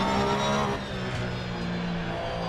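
Racing car engine droning steadily while driving in a video game, a continuous loud hum with harmonic tones that dips slightly partway through.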